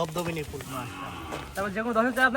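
Holstein Friesian heifer calf mooing on a farm, a few close, loud drawn-out lowing calls with a thin, high voice, the last one rising and wavering.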